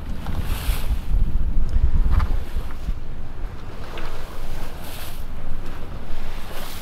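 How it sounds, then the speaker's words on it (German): A sailboat motors under engine into a headwind at sea between Corsica and Sardinia, with steady wind buffeting the microphone, rushing water along the hull and a low engine drone beneath, and no speech. "Wir fahren gerade unsere letzten Meilen unter Maschine, weil wir jetzt den Wind von vorne haben."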